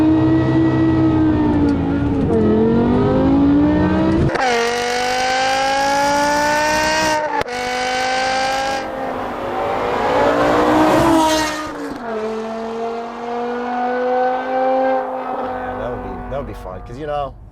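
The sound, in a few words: BMW M5 V10 exhaust revving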